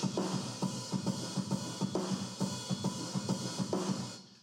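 A sampled drum kit captured through its ambient room mic plays a steady groove of kick, snare and cymbal hits, roomy and fairly full, with nobody talking.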